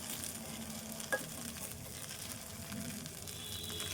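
Idli upma mixed with lemon juice in a pan, with a steady soft sizzle and continuous scraping of a spoon through the food and one brief clink.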